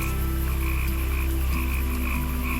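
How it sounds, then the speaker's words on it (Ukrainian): A steady chorus of frogs croaking, dense and continuous, with layered pulsing calls close by. "а десь у глибині лісу чути, як кумкають жабки"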